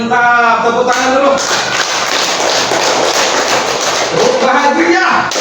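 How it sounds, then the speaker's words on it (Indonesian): A classroom audience breaks into loud, dense applause that lasts about three seconds, with a speaking voice just before and after it. "tepuk tangan dulu"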